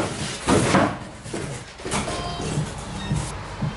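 A door in an apartment block opens with a fairly loud, broad rattle near the start, followed by softer bumps and knocks over a muffled background.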